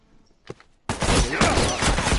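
Rapid rifle gunfire in a video game bursts in after a near-silent start and a brief sharp crack, continuing as a dense, loud volley of overlapping shots.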